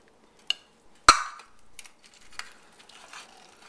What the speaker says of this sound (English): So I'm just going to take a spoon, lift the eggs out of the pan like this